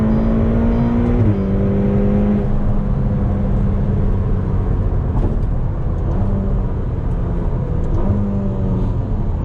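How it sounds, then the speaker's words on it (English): A Ferrari GTC4Lusso T's turbocharged V8 growls continuously on rough Mumbai streets, with clear rising and falling engine tones as it accelerates and shifts, loud and close throughout with no talking. "V8 turbo growl this time around."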